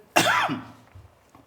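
One sharp, close cough bursts out, then fades quickly into near silence.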